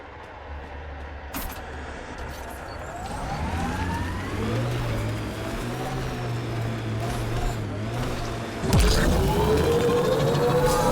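A vehicle being driven in Mass Effect Andromeda: a steady engine hum rises and falls in pitch as it accelerates, then a sharp, heavy jolt near the end, with faint voices underneath.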